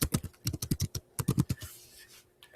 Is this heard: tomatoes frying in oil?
no